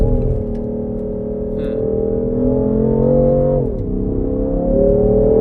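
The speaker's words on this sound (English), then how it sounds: "the engine noise through the speakers is amplified" Steady BMW M2 engine drone played through the car's speakers, a low hum that rises and dips slightly in pitch, fairly loud and continuous, as heard from inside the vehicle.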